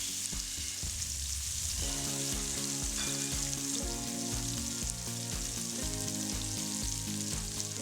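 Salmon fillet pan frying in hot oil, a steady close sizzle and crackle running throughout with no voices.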